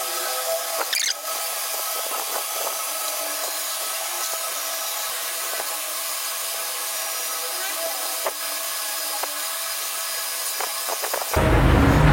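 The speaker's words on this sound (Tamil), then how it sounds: "சரி வாங்க ஓடி டர்ன் பண்ணலாம்." A lathe turns the outer diameter of a stainless steel tube, 14 mm outside and 10 mm inside and 185 mm long, producing a steady close high-pitched whirring scrape with faint clicks, then a louder rush near the end.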